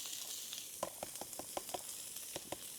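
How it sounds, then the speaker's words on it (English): Onions frying in a pan with chorizo and its released fat give a quiet, steady sizzle, with a run of light stirring taps over a few seconds. "Onions now."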